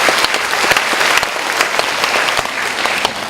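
A congregation applauding together at a university church worship service, dense and loud continuous clapping from many hands, close and steady from start to finish.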